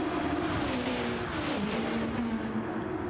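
Touring race cars file through the first turn at Spa-Francorchamps in a racing game, with a steady, close engine drone and slight pitch shifts as a pack of cars runs tightly together, no voices.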